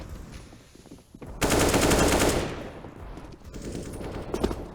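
Rapid gunfire in a Counter-Strike match between Alternate aTTaX and Noreg, a dense sustained burst lasting about a second, then scattered quieter shots and game noise.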